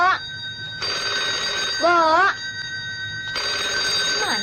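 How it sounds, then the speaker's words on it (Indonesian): Old landline telephone from a 1979 Indonesian film ringing in repeated long electronic trills with a short gap between bursts, fairly loud and steady, with voices speaking over it. "dari tadi telepon bunyi nggak diangkat-angkat?"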